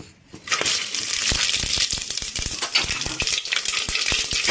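Cumin seeds, bay leaves and cinnamon pieces hit smoking hot oil in a pan, giving a steady bright sizzle with scattered crackles and pops, close and continuous throughout.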